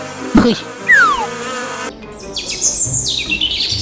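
Buzzing bees in a cartoon animal story, a short electronic buzz and zipping whine over chirpy bird-like cartoon tones, fairly loud and with no talk.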